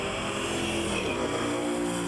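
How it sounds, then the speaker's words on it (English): Loud, sustained engine roar of drag racing muscle cars, a 1970 Cuda and a 1972 Nova, at an NMRA and NMCA event in Reynolds, Georgia, harsh and continuous with a dense rumble. "The 70 Cuda in the near lane, Larry Fleming."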